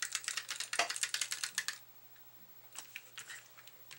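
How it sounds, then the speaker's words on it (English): A Tombow adhesive tape runner rolls tape onto card stock as quick, dense ticking bursts, a steady run of about two seconds followed by a pause and then a sparser, softer run, close and fairly quiet. "I'm going to use the Tombow adhesive and just put a layer of tape"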